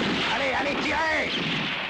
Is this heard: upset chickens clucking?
no